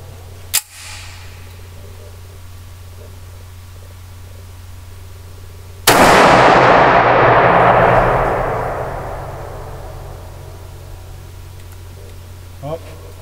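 A Springfield Armory GI 1911 A1 pistol in OD green fires one loud, sharp shot at a shooting range, and its echo decays over several seconds. Faint clicks come before and after the shot.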